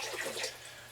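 Lukewarm water splashing and swirling as a bucket is rinsed out, a short, faint burst of sloshing water with no talk.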